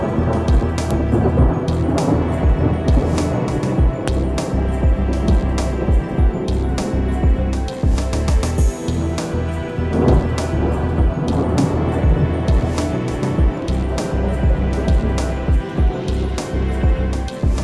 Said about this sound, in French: d'immenses décharges semblent ramper sous les nuages, tout en produisant un son caverneux caractéristique.